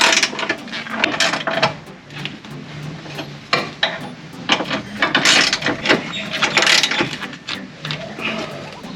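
A ratchet wrench tightens the 13mm sway bar mount bolts on a Mk1 Ford Focus, with rapid, close clicking in repeated bursts and occasional clanks of metal.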